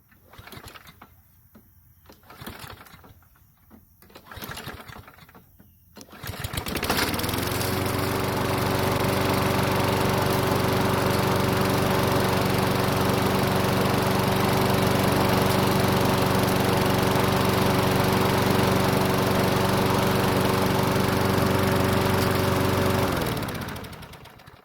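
A Craftsman self-propelled lawn mower engine, cover off, turns over with a few sputtering pulls, then catches and runs at a steady, loud drone with a constant hum before cutting off at the end.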